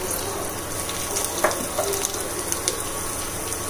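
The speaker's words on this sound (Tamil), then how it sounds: "பட்டை சோம்பு தாளிச்சிடலாம்." Cinnamon and fennel dropped into hot oil in a pan, a steady crackling sizzle with a few sharp pops and clicks, close and moderately loud without any voices.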